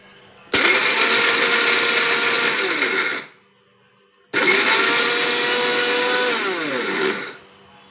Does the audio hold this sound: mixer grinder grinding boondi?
yes